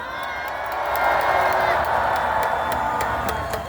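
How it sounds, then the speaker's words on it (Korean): A large outdoor rally crowd in Hannam-dong cheers and claps together, a dense sustained roar with scattered claps and whoops that swells and holds. "다시 한번 격려의 박수 함성 부탁드리겠습니다"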